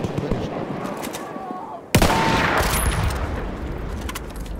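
In a Battlefield 1 match, a sharp loud blast or shot cracks out midway, followed by a rumbling roar of gunfire and explosions that lingers to the end.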